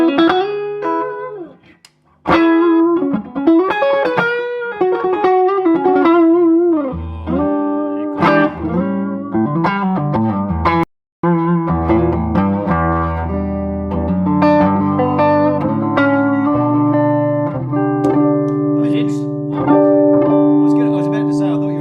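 Electric guitar played through a VHT D-Fifty amplifier on its clean channel, sounding steady and close with sustained chords and single-note lines ringing on, with one brief dropout partway through.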